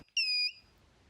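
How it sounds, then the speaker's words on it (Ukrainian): A winding-diagnostics test instrument signalling a shorted turn in an electric machine coil: a single short, clear electronic beep, a high steady tone lasting about a third of a second, close and alone. "У разі виявлення кутушки з короткозамкненим витком прилад подає світловий та звуковий сигнали"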